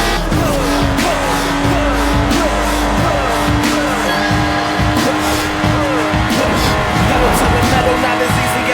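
A Lotus Exige sports car in Forza Horizon 4 drives hard with a loud, continuous engine roar, shifting revs and repeated tire squeals as it corners, sustained throughout.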